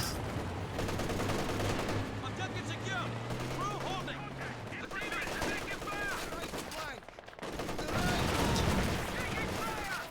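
Machine gun fire during a competitive video game match: dense, continuous bursts of shots mixed with battle noise, with a commentator talking over them and a heavier burst toward the end.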